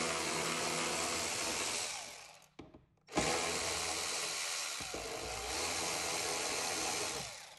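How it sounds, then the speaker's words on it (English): A T15 Torx driver removes the screws holding the cloth on a motorcycle saddlebag, with a loud, close, high whirring motor in two long runs separated by a short pause. "I'm going to take a T15 Torx. I'm going to remove the 2 screws holding our saddlebag cloth here."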